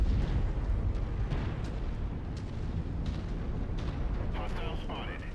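A destroyed enemy vehicle explodes in the mech combat game MechWarrior 5, a loud rumbling blast that rolls on under continuous battle noise, with a brief higher crackle near the end.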